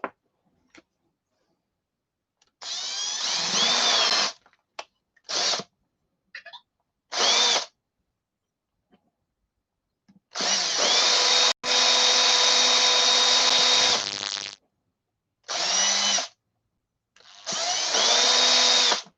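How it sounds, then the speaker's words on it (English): A power drill whirs in repeated bursts while drilling a pilot hole, short pulses and longer sustained runs separated by silence, loud and close. "I'm going to do a little pilot hole."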